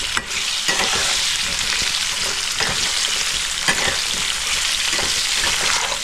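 Potato pieces with salt and turmeric sizzle loudly in hot oil over a high flame, with a steady crackling hiss broken by occasional scrapes and clinks of stirring.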